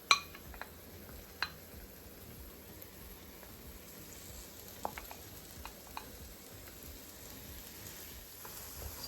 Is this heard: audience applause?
no